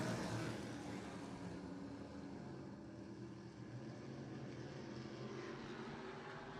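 Modified race cars racing at Wiscasset Speedway, a steady broad engine roar from several cars at a distance, holding constant and easing slightly as the pack moves on.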